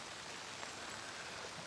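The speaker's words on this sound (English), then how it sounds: "And the rain hasn't stopped at all." Rain falls on a farm in a steady, moderately faint hiss, with a few soft drops pattering close by.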